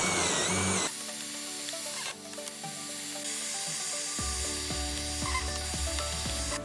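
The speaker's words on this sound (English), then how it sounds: "Use the Kreg jig to cut out screw holes on the cross member pieces." A power drill bores pocket screw holes through wooden cross member pieces with a Kreg jig, whirring steadily up close with a slight pitch shift near the end, no voices.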